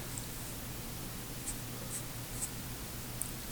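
A pen scratches lightly across paper in a quiet room, with faint soft strokes and a few brief ticks over a low steady hum.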